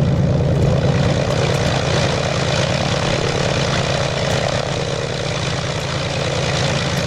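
Zlin Z-142 propeller engine with the canopy open in a flight simulator game, a loud, steady droning hum with a low throbbing pulse that holds constant throughout, no voices.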